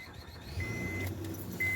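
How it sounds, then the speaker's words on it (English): A car engine is started, a low rumble building under a faint chime and key jingle, close and moderately loud with no talk. "Let me start my car."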